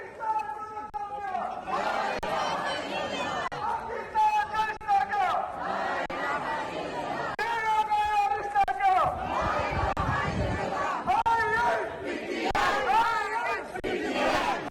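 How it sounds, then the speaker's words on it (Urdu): Party workers protesting in Pakistan chant loud political slogans in repeated rhythmic bursts, a large group of voices shouting in unison with call-and-response phrasing over a crowd murmur. "اس موقع پر کارکنوں نے شدید نعرے بازی کی"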